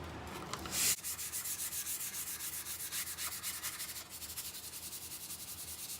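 Wood hand-sanded with 220-grit sandpaper near a knot and small divot: steady, rapid back-and-forth rasping strokes, about four per second, close and continuous, with no talking.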